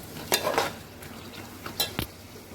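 Chana dal curry with potato and drumstick pods being sautéed in a pan: a soft frying hiss with a few quick spatula scrapes and clinks, fairly faint and close, with no talking.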